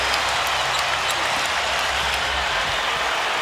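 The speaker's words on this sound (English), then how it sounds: "And this crowd is now very much into it." Crowd at the 2001 NBA All-Star Game in a basketball arena roars and cheers in a steady, dense wash of noise with scattered clapping, loud and continuous throughout.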